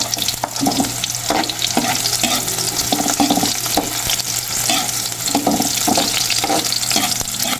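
Onion and ginger frying in oil with garlic for squid adobo, a steady loud sizzle running throughout with repeated scraping stirs of a utensil against the pan at a loose rhythm.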